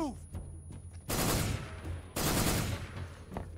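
Gunfire in Metal Gear Solid 3 comes as two loud, dense bursts of rapid shots about a second apart, each lasting roughly half a second, with quieter moments between and a brief faint sound after.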